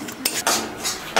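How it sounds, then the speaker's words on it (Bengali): Semolina is lightly roasted in a pan for lalmohan sweets, with close, gritty scraping strokes of a spoon stirring the grains, repeated in quick separate sweeps. "তো হালকাভাবে ভেজে নিচ্ছি সুজিগুলো।"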